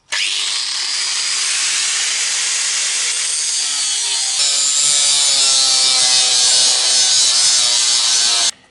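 Scrap steel is cut by hand to make a castellated nut wrench for a Citroën Traction 11 B, giving a loud, close, continuous rasping saw stroke that runs unbroken for about eight seconds, with no talk.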